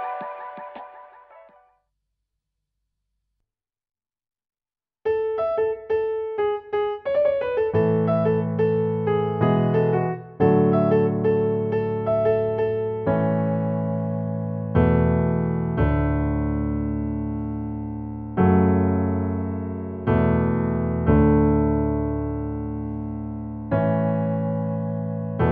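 Piano playing a pop song, a short phrase, a pause, then sustained chords and melody notes struck in a steady rhythm, close and full.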